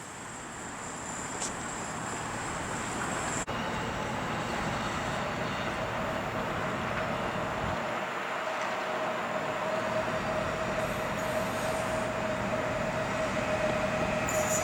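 A passenger train from Nasielsk rolls into a station platform, a long steady rumble of wheels on rails with a faint squeal of brakes, rising slightly as it draws closer.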